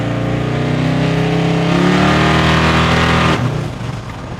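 Bagged, boosted Chevy C10 pickup with a Holley-equipped engine, cruising as its exhaust climbs through the revs then drops sharply at a gear shift, loud and close, with no voices.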